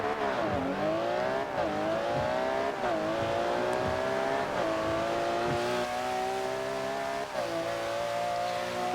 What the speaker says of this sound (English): it's got an insane engine with a turbocharger